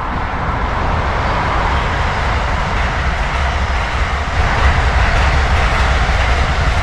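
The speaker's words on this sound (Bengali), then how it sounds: "এই যে একটা ট্রেন আসছে।" A train rumbles past nearby in the New Jersey woods, a loud continuous roar of wheels and carriages that swells slightly toward the end.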